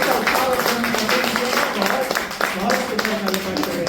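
Audience applause at a poetry recitation held for Kargil Vijay Diwas. Steady, enthusiastic clapping from a crowd runs throughout, with a voice talking over it.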